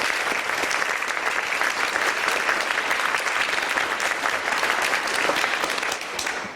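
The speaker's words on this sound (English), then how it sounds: "if we can have one more round of applause for them." An audience at a debate claps loudly and continuously, a dense wash of applause that holds steady before easing off at the end.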